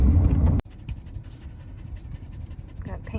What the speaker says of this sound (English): Got panting puppies,